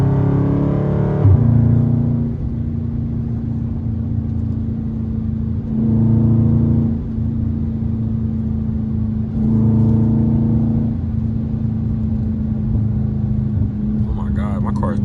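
A blacked-out Dodge Charger Scat Pack in track mode drones steadily at night, its engine surging in several repeated waves of acceleration, with voices talking over the cabin noise.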